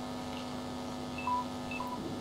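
Samsung Galaxy S3 phone playing quiet dialing tones, a few short electronic beeps at different pitches over a steady low hum, faint and close.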